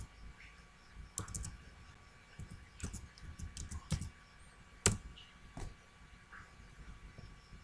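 Computer keyboard keys clicking in scattered bursts of quick taps with a few sharper strokes, close and moderately quiet, during a software lesson in Microsoft Paint, with no talking.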